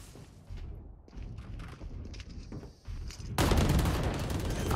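Gunfire from the video game Valorant crackles in a dense, rapid burst that swells loud near the end, preceded by softer scattered game sounds.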